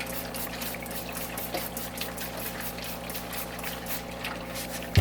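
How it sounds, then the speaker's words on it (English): Distilled water runs over a zinc-plated carburetor linkage, a soft steady trickle and splash heard close up, with a low background hum beneath it. "I'll hit that with distilled water"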